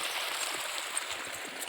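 Water running through a channel in a farm field, a continuous soft hissing rush with light gurgling, steady and fairly close, with no voices over it.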